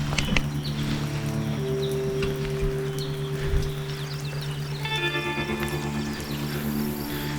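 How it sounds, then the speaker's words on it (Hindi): Steady, heavy rain falls in the woods of Kalatop wildlife sanctuary near Dalhousie, Himachal, as a constant dense patter. Faint bird calls sound through it. "बारिश भी तेज़ हो रही है।"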